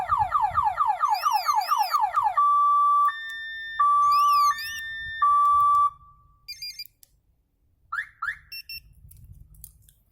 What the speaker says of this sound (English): we get an alert, full alarm